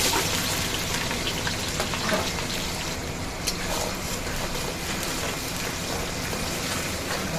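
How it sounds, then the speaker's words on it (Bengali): Oil heats and sizzles in a pan after potatoes were fried in it for chicken biryani, a loud, dense, rain-like crackle running unbroken throughout without speech. "তেলটা গরম হচ্ছে"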